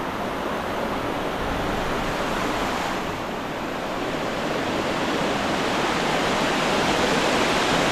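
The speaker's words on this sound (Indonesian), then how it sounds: "di tepian sungai kayak gini" A forest river rushes past, a dense, loud and constant roar of flowing water that fills the scene without a break.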